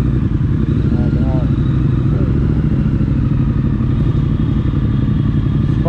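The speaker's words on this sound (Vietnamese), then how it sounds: "Bô nghe đá kìa các bạn" A motorcycle exhaust rumbles loud and close in a steady, continuous deep drone during a test ride, with brief faint chirps above it and no pause through the whole stretch.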